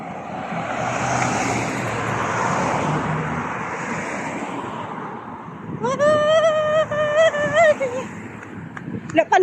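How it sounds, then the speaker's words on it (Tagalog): Heavy street traffic passes in a continuous, loud roar of vehicles that swells and fades, and a sharp tonal blare cuts in near the end. "Daming sasakyan, hindi ako makatawid."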